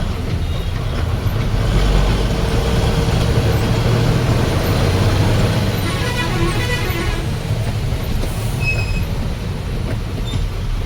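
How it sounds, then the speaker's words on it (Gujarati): Steady broadband rumble of a rain-soaked highway traffic jam near Vadodara, with heavy vehicles idling and moving slowly through downpour, a continuous close wash of engine noise and hiss with no talking. "વરસાદને લીધે અત્યારે ટ્રાફિક થઈ ગઈ છે"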